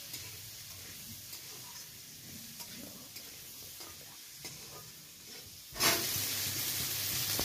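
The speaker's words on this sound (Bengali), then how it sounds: "আলুর মধ্যে নুন দিয়ে দিলাম আর হলুদ দিয়ে দিলাম। আলুগুলো একটু ভালো করে ভেজে নেব।" Potatoes seasoned with salt and turmeric fry in a pan. Soft stirring and a low sizzle run for several seconds, then a loud burst of hissing frying takes over and holds steady to the end.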